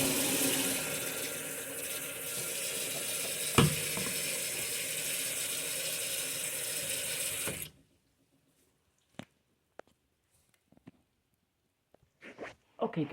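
Water running from a bathroom tap, a steady close rushing hiss lasting nearly eight seconds before it shuts off, followed by a few faint clicks and handling sounds in the quiet room.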